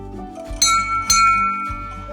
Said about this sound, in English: Lizzie, should we ring the bell and say it all together again?